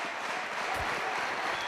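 Sustained crowd cheering and applause at a CS2 Germany versus Lithuania semi-final at the European Esports Championship 2025, a dense, steady roar of noise filling the whole moment with no clear break.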